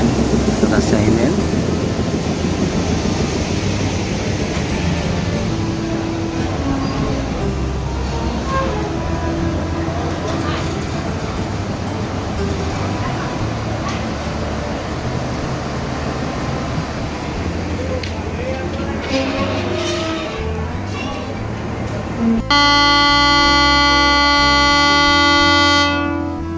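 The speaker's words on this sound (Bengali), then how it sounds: "চাঁপাইনবাবগঞ্জ থেকে ছেড়ে আসা ঈশ্বরদীগামী রাজশাহী মেল আজিমনগর রেল স্টেশনের 1 নম্বর লাইন দিয়ে এই মুহূর্তে প্রবেশ করছে" Rajshahi Mail, a local passenger train from Chapainawabganj bound for Ishwardi, rolls into line 1 at Azimnagar station with a steady, loud rumble of wheels and carriages, a voice talking over it, and a sharp tonal shift near the end.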